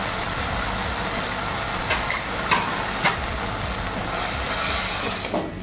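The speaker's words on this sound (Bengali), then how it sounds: "নাড়াচাড়া করে ভালো মতো মশলাগুলোকে ফ্রাই করে নেব" Ground cumin and black pepper with salt sizzle in a pan for a Bengali green banana kofta curry, a steady loud frying hiss broken by scraping stirring strokes, close up.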